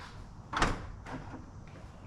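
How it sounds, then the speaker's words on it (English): A single muffled thunk as the trunk of a 2004-2008 Acura TL or Honda Accord pops open from the interior release button, followed by a fainter click, with quiet background hum. "Now I'm gonna go and push the trunk release button inside the vehicle and let's see if the trunk pops."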